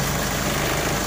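A car's engine drones and rattles with a heavy, constant vibration, loud and close, with no break or change across the moment.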